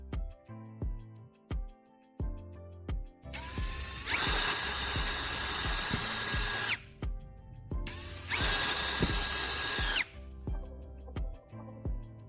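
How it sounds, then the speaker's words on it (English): Two bursts of a small power drill whirring through a plastic bottle cap, separated by a pause, with clicks and handling knocks around them. "I'll drill a hole in the center and two smaller holes along the edges of the cap"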